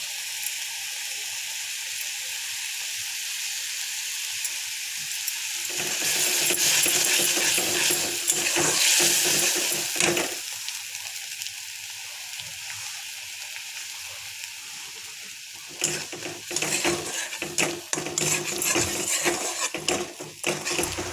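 Vegetable momo filling stirred in a kadhai, a hissing sizzle that swells and fades in bursts, with rattling, scraping strokes of a spatula against the metal pan near the end; no talking.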